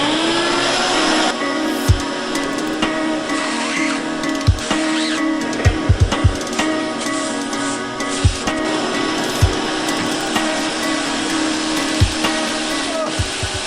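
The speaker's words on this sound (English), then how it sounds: "So I'm gonna vacuum this out and clean everything up." A vacuum cleaner runs steadily inside the interior of a Mazda Miata NB, a loud continuous drone with repeated knocks and bumps as the nozzle hits the cabin trim, and faint talk beneath it.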